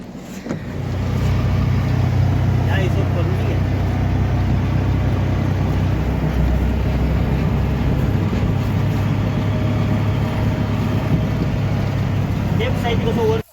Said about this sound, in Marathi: चला ही आपली रिक्षा अमोलदाची